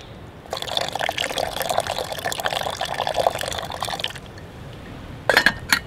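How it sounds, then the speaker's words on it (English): Cold water pours steadily from a height into a coffee pot with grounds for about four seconds, a continuous splashing fill that stops, followed by a couple of brief clinks and splashes. "now I'm gonna pour some water, some cold water in here"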